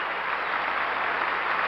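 A standing crowd at the 1970 U.S. Figure Skating Championships applauds skater Janet Lynn after her free skate, a steady dense wash of clapping heard from within the arena.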